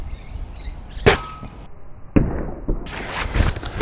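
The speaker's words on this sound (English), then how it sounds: "when you then pull the trigger and it hits the target right in the middle" A Nerf Pyretusk bolt-action blaster fires a single sharp shot at a target, followed a moment later by a second crisp snap as the dart strikes, with quiet room noise between and a brief hiss afterward.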